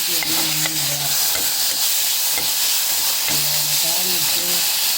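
Tomatoes sauté in oil for a drumstick leaf soup, giving a close, even hiss of sizzling with a few soft stirring taps, while faint tonal sounds drift in and out underneath.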